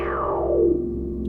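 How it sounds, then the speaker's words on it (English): Synthesized frequency sweep run through a distortion effect, a gritty buzzing tone gliding downward over about a second and settling into a steady harsh drone. "you can't really hear all of these very sharp overtones that are being added to the sound using the distortion"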